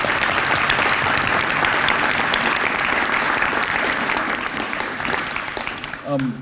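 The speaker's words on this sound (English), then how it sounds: "Give them all a round of applause." Sustained applause from an audience at a police district awards ceremony, dense steady clapping filling the room for several seconds before tapering off, with a voice starting to talk at the very end.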